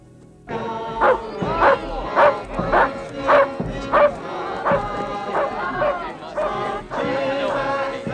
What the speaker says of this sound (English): A wolf and a dog.